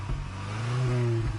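A 1993 Volvo 240 SE Estate with a four-speed gearbox revs in Gran Turismo 7. The mid-pitched engine drone climbs and then holds for a brief, continuous moment.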